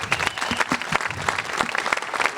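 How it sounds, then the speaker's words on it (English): An audience claps steadily and densely for a panel at a live event celebrating the 40th anniversary of the Judgment of Paris, with the applause filling the whole moment. "Round of applause for our entire panel."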